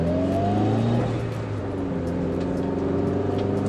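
A Mitsubishi Evo 9 pulls hard under acceleration, its engine note climbing steadily through a gear and then rising again, loud and close from inside the car.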